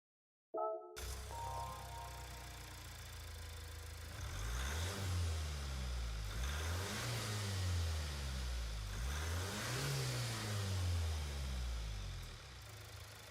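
Diesel car engine in a racing video game, revving through a heavy, rhythmic rise-and-fall pattern of throttle blips, loud and close after a brief startup, steady to the end.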